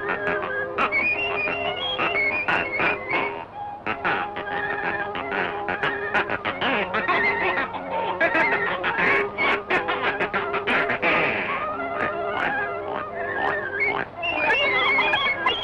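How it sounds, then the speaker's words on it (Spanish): Goose being stretched in the Steamboat Willie cartoon, giving a run of loud, close, squawking honks pitched like notes, one after another, over cartoon music, with no talk. "La primera estirada de ganso"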